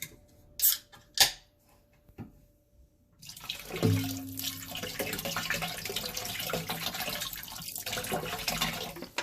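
Water pours steadily into a cooking pot of corned beef with cabbage, potatoes and carrots, a continuous close splashing stream after a few brief clinks and knocks, with no talking.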